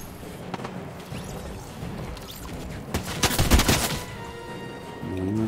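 Gunfire in Fortnite: scattered shots build into a loud, close burst of rapid fire in the middle, then fade back into the clatter and effects of the game.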